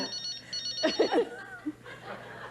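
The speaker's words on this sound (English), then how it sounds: "Dude, you got a phone ringing." A faint electronic telephone ring chirps in the background, with brief voices and soft laughter over it.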